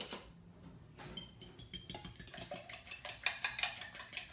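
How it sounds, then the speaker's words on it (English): Fork stirring two eggs in a bowl, a run of quick light metallic clicks and scrapes against the bowl edge, close and fairly quiet, growing busier and more rhythmic toward the end with no talking. "I'm gonna stir them up really well with a fork"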